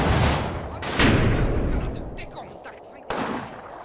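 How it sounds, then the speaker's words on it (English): A hand grenade goes off in Combat Mission Final Blitzkrieg: sharp, loud blasts and gunfire bursts at the start and again near the end, with rumbling decay and faint crackles between them. "I think they threw a hand grenade in there"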